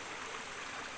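A river stream flows steadily, a soft, continuous rushing and babbling of water, even in level and faint, with no voices.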